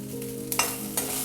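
Grated coconut roasting in half a teaspoon of oil in a kadhai, a steady low sizzle with two short scraping stirs.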